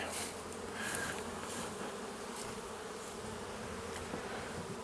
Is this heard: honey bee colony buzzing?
yes